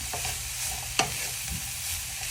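A spoon stirs cabbage thoran in a pan with coconut oil. It scrapes with a few quick clinks over a steady soft sizzle, close and fairly quiet.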